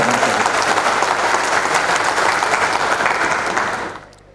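Sustained, dense applause from a large audience at a corporate partner-meet gala night, loud and even throughout before fading out at the end, with no speech over it.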